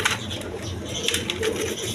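Coloured pigeons at a sale, among them a Danish cock, coo in soft low repeated calls, moderately close, with steady background noise and no clear talk.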